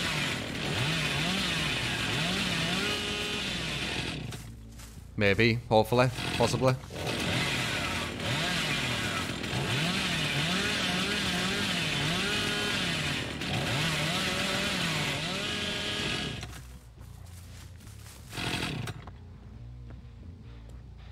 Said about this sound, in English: I bet they're quite oblivious when you come out the rear chainsaw.